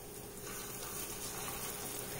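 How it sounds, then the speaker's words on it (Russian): Steady, quiet sizzling of cheese pancakes frying in oil in a pan over medium heat, a continuous soft crackle with no voices. "Делаем жарим на среднем огне."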